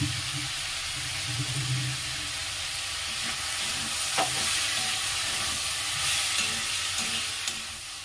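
Vegetables fry in a pan with soy sauce while they are stirred, producing a loud, steady sizzle throughout along with occasional scraping of the spoon, no talking.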